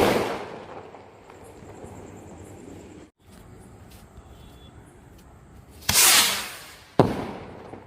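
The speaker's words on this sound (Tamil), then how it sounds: "இப்போ வாங்க இந்த ராக்கெட்டை பற்ற வச்சு எப்படி இருக்குன்னு வந்து டெஸ்ட் பண்ணிடலாம்." A We Two brand rocket bomb firework from Sivakasi is lit for Diwali: a hissing fuse and whoosh lead to a sharp loud bang, followed moments later by a second crack, heard outdoors with no talk.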